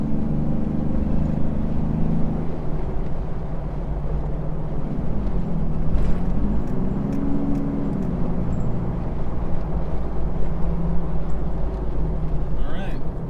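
Steady low engine drone from a Jeep JK with the 3.6 Pentastar and an aFe Magnum Force Stage 2 intake, a loud continuous hum with a slight rise and fall in pitch partway through, with talk running over it.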